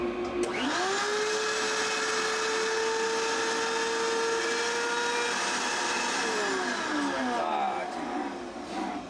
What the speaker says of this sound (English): we'll give the shop vac a try